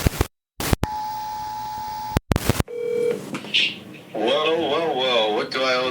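A phone places an outgoing call with a few short bursts and a steady tone, then someone talks over the ringing as the call connects.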